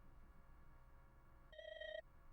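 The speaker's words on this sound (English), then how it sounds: "My phone buzzed." A phone rings with an incoming call in a short, clear electronic tone lasting about half a second over quiet background hiss, faint and slightly distant.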